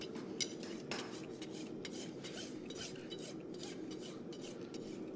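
A farrier rasps a horse's hoof wall with rough, repeated scraping strokes in an even rhythm, close and fairly loud, with no voices.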